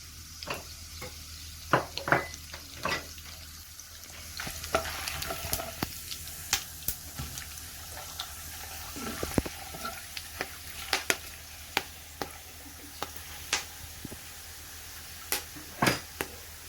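Garam masala spices fry in oil for chicken do pyaza, with a soft continuous sizzle broken by sharp clicks and taps of a spoon against the pan, steady and close throughout.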